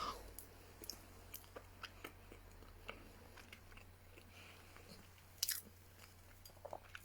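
Quiet, close chewing of homemade chocolate cake, with soft irregular bites and crunchy clicks spaced through a near-silent room.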